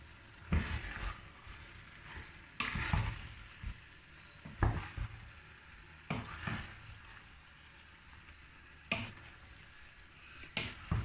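Tripe frying in a saucepan is stirred with a spoon, giving soft scraping and clattering strokes at irregular intervals over a faint, steady sizzle.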